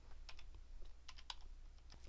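Computer keyboard keys tapped in a quick, irregular run of light clicks, close and fairly quiet, with no talking.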